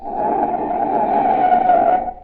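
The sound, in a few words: car tires screeching under emergency braking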